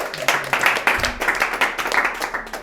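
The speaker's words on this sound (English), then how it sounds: "Give her a round of applause." Audience at a comedy and illusion show breaks into applause, dense clapping that swells and pulses for a few seconds, with a voice briefly speaking over the start.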